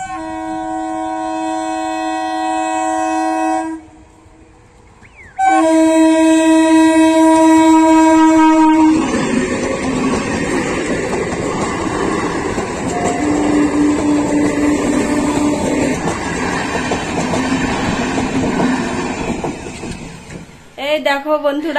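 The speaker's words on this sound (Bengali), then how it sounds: "আমাদের এখানকার লালগোলা শিয়ালদা প্যাসেঞ্জার ট্রেন আসছে এখনই" A Lalgola–Sealdah passenger train approaches and passes close by, opening with loud sustained horn blasts broken by a short gap, then a long roaring rumble of the carriages that fades near the end.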